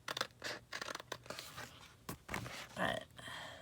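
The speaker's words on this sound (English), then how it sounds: "Cut the speech bubble out." Scissors cutting out a paper speech-bubble embellishment for a scrapbook layout: quiet, close, irregular snips and crinkly paper scratches with brief pauses, and a soft voice underneath.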